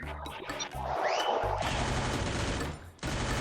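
Rapid bursts of gunfire in the battle royale video game Free Fire, a loud, dense volley of overlapping shots with crashing impacts, briefly dropping before resuming, with no talk.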